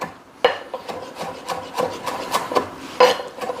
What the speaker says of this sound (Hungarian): lényegében szorosan összefogva össze fogom vágni